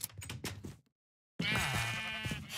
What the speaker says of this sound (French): je compte bien capturer des moutons et les mettre dans notre spawner